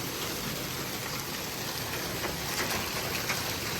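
Hail mixed with rain falls steadily in Malta during a thunderstorm, giving a dense, even hiss of drops striking surfaces with scattered sharper ticks and no talking.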